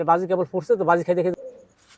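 High-flying pigeons coo in a few short, close, fairly loud bursts that trail off into quiet.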